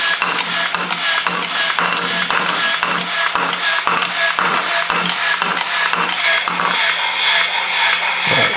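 An electric motor runs at 24 volts, about 120 RPM, with a steady whirring hum and a regular train of light mechanical clicks and ticks, close and fairly loud, with no talking.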